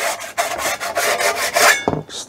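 A hand file rasps back and forth across a metal cage nut to remove a burr, about eight quick scraping strokes up close, ending with a light clink.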